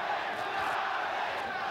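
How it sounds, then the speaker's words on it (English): A boxing arena crowd roars and cheers during the first round of a bout, a dense, continuous wall of voices filling the whole short stretch. "the crowd, after sitting on its hands through the entrance of the fighters and the introductions, has now gotten right into it in the first round"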